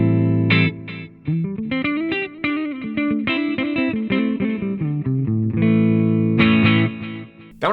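Electric guitar played through a Positive Grid Spark 40 amp on a clean preset with big, wide reverb: a steady run of picked notes and chords, close and loud, with a ringing tail at the end.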